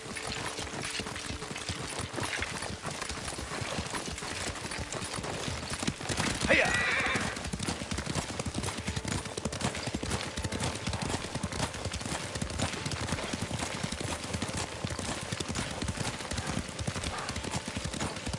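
Steady clip-clop of horse hooves at a riding pace runs throughout, with a horse whinnying partway through and faint voices in the background, in the video game Ghost of Tsushima.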